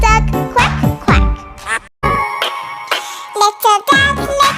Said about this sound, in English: Little duck, quack, quack.